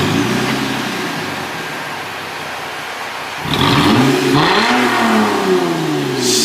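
Lexus IS250 engine with no muffler or resonator, idling with a loud, raspy exhaust drone before a strong rev climbs and falls in pitch and then holds at a raised, rough roar.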